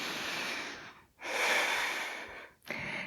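Deep yoga breathing, a long airy inhale and exhale followed by the start of another breath, close and steady with brief pauses between.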